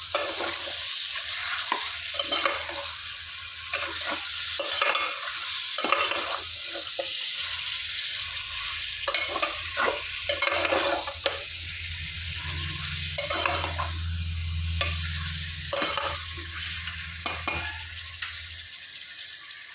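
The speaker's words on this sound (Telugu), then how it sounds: "ఇందులో కరిగి పెట్టుకున్న వన్ కేజీ చికెన్ వేసుకుందాం ఫ్రెండ్స్ మంచిగా వేగనిద్దాం ఫ్రెండ్స్" One kilogram of chicken frying with onions in a pan, a loud continuous sizzle with repeated scraping strokes as it is stirred throughout; no voices.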